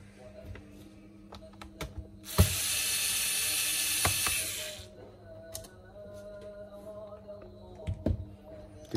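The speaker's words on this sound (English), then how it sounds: "There is a screw here also you need to remove." Screws are being removed from an HP 15-ab238tx laptop during a keyboard replacement, producing close, small ratcheting clicks and scraping taps, with a sustained louder whirring stretch in the middle, under sparse speech.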